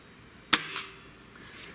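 A Gamo Swarm Maxxim multi-shot .22 caliber air rifle fires at an egg target, one sharp close crack followed a moment later by a fainter impact snap.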